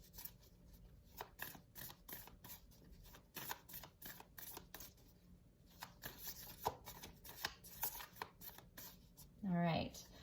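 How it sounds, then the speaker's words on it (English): Oracle cards on heavy card stock are shuffled and picked by hand, a close run of rapid riffling flutters in bursts, with a short spoken phrase near the end. "I'm going to pick 3 cards here."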